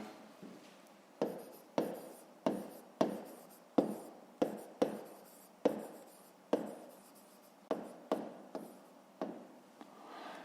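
Handwritten notes being written out during a fifth-grade maths exercise about a rectangle's width, with bursts of scratchy pen or chalk strokes, close and fairly quiet, in an irregular rhythm with short pauses between them.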